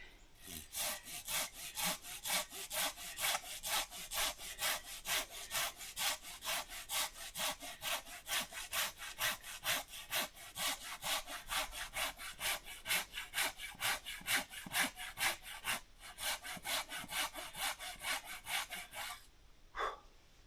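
Rapid, rhythmic strokes of a hand saw biting through green deadfall wood, steady and close for the whole stretch, with no speech.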